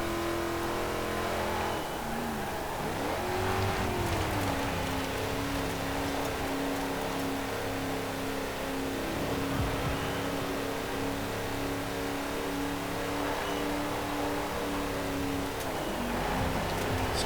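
A modded car's engine running a lap in Forza Horizon 4, a continuous loud drone that climbs and drops in pitch through gear changes and corners, with tyre and wind noise.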